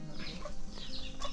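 Chickens clucking on a farm with several dogs around, short irregular clucks at moderate distance over a steady background hum.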